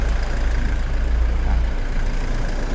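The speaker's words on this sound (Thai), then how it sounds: "เครื่องยนต์ นิ่งมากนะครับ" A 2017 Toyota Fortuner 2.8V 2WD diesel idles smoothly and steadily, a low, even engine rumble heard close by with no speech.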